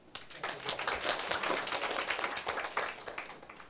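A seminar audience at a legal study session claps steadily and fairly loudly for several seconds, a continuous wash of hand claps with no clear talk.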